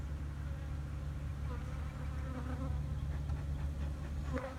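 Honey bees buzz around a hive being fitted with starter frames for a queen castle, a dense steady hum with individual bees whining past up close over a low background drone.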